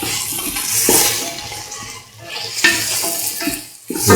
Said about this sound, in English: Now we'll mix the tomatoes